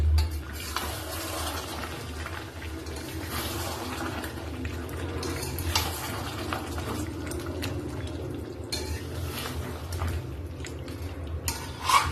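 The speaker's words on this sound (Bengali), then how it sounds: "গ্যাসটা একটু আস্তে করে দিয়ে মাংসটা কষাচ্ছি" Chicken being stirred and sautéed in a pan over a lowered gas flame for a Bengali chicken curry, giving a steady, moderate sizzle with soft scraping strokes and no talk.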